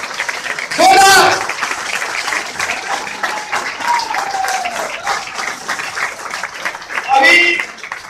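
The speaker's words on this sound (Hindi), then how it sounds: "सभी लोग अपने बड़ी उड़ान के लिए अपने को तैयार करने के लिए जोरदार ताली अपने के लिए बजा दे" Audience at a company celebration event in Gurgaon clapping loudly, a continuous wash of applause with a speaker's amplified voice over it at the start and end.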